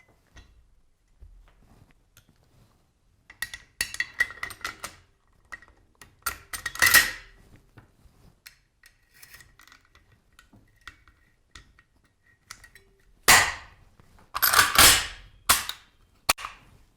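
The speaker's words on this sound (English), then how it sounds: "Now assemble the rifle." Metal parts of an AK rifle being assembled with an RK-9 pistol grip: sharp close clicks and snaps scattered through quiet, with several loud clacks near the end.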